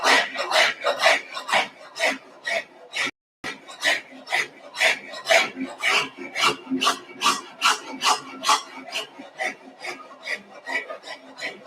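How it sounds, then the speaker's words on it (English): A hand rasp files wood in a steady run of roughly two dozen loud, rhythmic scraping strokes, close up and alone, with one brief pause early on. "So we can use rasp as well."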